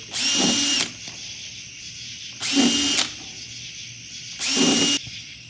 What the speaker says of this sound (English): I'm going to use a block of wood here and just drill a few little holes here